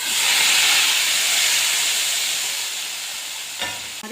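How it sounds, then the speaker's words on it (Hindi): Hot tadka poured into Punjabi kadhi, a loud steady hiss of sizzling oil that slowly fades, ending with a brief clatter of a utensil. "ये देखिए अब हम डालेंगे अपना तड़का इसके अंदर।"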